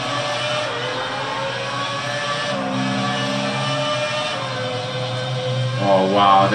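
A Ferrari Formula 1 car in the F1 2006 racing game at the Spanish Grand Prix, its engine holding a steady high drone before revving harder near the end, alone with no talk.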